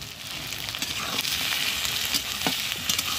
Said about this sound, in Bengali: পেঁয়াজটাকে নেড়ে চেড়ে যতক্ষণ না পর্যন্ত গোল্ডেন ব্রাউন কালার হয় ঠিক ততক্ষণ ভেজে নেব।